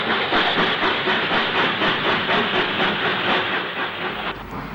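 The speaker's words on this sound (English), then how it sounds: "On train, arriving at Bicester North." A 1960s steam train arriving at Bicester North station rolls along with a steady rhythmic chuffing and hiss, wheels clattering over the rails, loud and close throughout.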